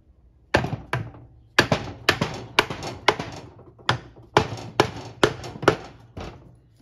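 Hammer blows strike the bottom of an engine case near the foot peg mount to split it, a dozen or so sharp metallic knocks in uneven bursts with short pauses, close and loud.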